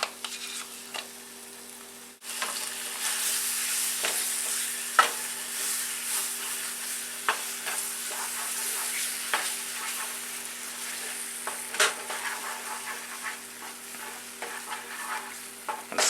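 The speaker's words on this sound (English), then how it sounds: "This smells really good now that the onions are sizzling." Onions frying in a pan for a green bean casserole, a steady close sizzle and crackle sustained throughout with occasional stirring clicks and pops, no voices.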